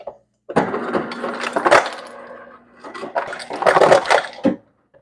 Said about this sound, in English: Let's get some ice.